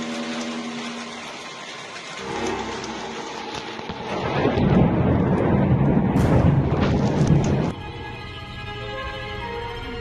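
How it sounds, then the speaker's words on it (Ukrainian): A thunderstorm over Moscow, with heavy steady rain and a loud rolling thunderclap that swells midway and cuts off abruptly, no voices. "Гроза продовжується, погодні умови залишаються нестабільними."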